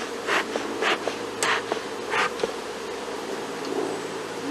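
Honey bees from a swarm buzz around during a hive installation, with close passes swelling and fading over a steady background drone.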